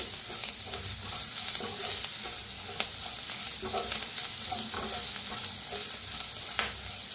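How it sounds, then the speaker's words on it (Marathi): Turmeric roasting in hot oil in a pan for kadhi, with a continuous close sizzle and light scraping, tapping stir strokes throughout. "त्याच्यातच टाकूया हळद. हळदीला बी भाजून घेऊया."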